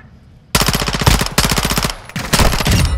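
Rapid automatic gunfire from the video game Call of Duty Modern Warfare 2 in a hardcore team deathmatch, loud close bursts of machine-gun fire with brief gaps between volleys.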